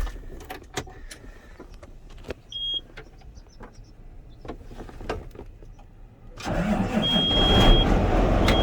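A John Deere 9620RX tracked tractor is readied with clicks, clunks and a brief electric whine, then its engine cranks and catches, settling into a loud, steady idle while warming up.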